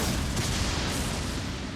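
A Dragonscale Blade weapon art attack in Elden Ring gives a low, rumbling blast that swells and holds through the moment. It sounds fairly quiet and distant, with a brief brighter burst early on.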